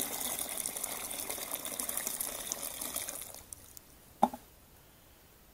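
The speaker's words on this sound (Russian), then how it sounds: "Добавим еще горяченькой водички." Hot water gushes in a steady rushing pour for about three seconds, then stops, followed by a single sharp knock and quiet background.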